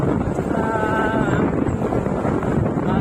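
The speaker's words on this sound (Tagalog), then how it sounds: "Ito ang hangin." Steady wind rumble buffets the microphone, a broad constant roar with faint tonal hum above it, no talk.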